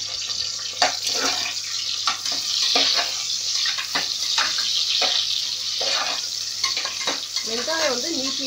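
Onions fry in oil for biryani, a steady close sizzle broken by repeated stirring scrapes and spatters, with a brief voice near the end.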